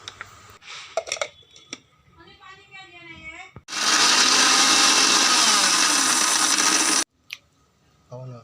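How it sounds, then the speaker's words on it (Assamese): A kitchen mixer grinder grinds coconut for an Assamese taro and coconut curry, a loud steady whirring roar lasting about three seconds after some clinks and handling, then cutting off abruptly. "এতিয়া নাৰিকলবোৰ মিক্সাৰত মাৰি ল'ম।"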